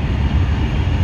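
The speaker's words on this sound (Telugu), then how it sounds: "ఆ ట్రైన్ పోతుంది" A train passes through the hilly Araku valley as a steady, loud low rumble of rolling wagons that continues unbroken through the short stretch.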